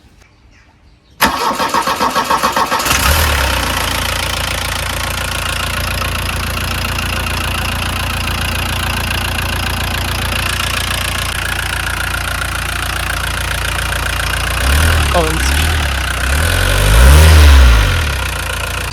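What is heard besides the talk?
Volkswagen Golf Mk2 engine starting and revving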